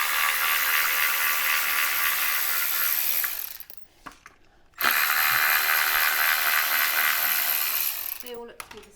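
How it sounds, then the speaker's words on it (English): A ratchet loosens a bolt on the side step of a new Land Rover Defender L663, fast continuous clicking in two long bursts separated by a brief quiet gap, close and loud. "I'm going to take the steps off, take a bolt out there."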